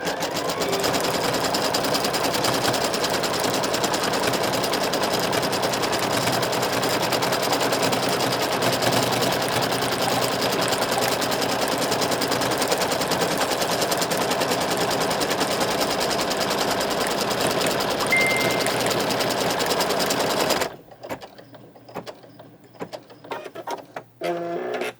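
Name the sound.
embroidery sewing machine stitching a badge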